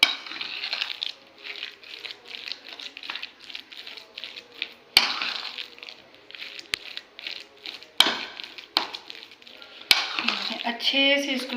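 A sandwich filling is mixed with mayonnaise in a bowl, giving close, uneven clinks, scrapes and squelchy stirring strokes with several sharp spoon knocks on the dish.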